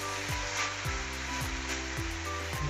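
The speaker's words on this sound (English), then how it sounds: "Don't stir it very hardly because the rice will broke." Fried rice tossed and stirred in a hot pan, a steady sizzle with regular scraping sweeps about every half second, loud and close, no voices.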